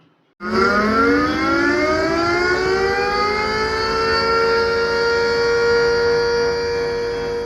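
The Aluva municipality siren winds up sharply and holds a loud, sustained, rising-then-steady wail throughout, with no voices over it.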